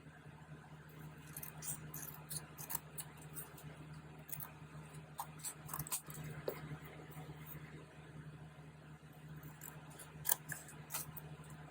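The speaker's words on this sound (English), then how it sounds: "Okay, I'm going to trim it." Scissors trim the burnt-edged paper of a small mixed-media collage, faint crisp snips and paper rustles scattered over a low steady background hum, no speech.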